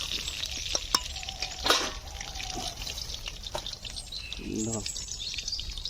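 A coconut-shell ladle with a bamboo handle stirs lentil dal in a pot, soft wet scraping and clicking strokes with faint bubbling, fairly quiet, while a voice talks over it.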